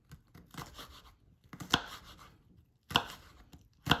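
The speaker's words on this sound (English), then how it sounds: "I like to cut this down pretty small because I don't really want to bite into a gigantor chunk of jalapeno" A knife chops jalapeno on a cutting board in a few quick bursts of sharp, close taps, each cluster separated by short pauses.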